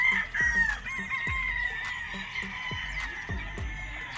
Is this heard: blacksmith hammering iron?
no